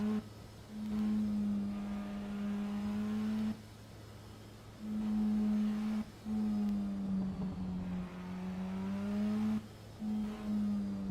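A race car engine in the Assetto Corsa Evo racing game revs hard at the top of its range, with repeated rising-and-falling drones cut by brief gear-change drops, a steady mechanical tone and no talking.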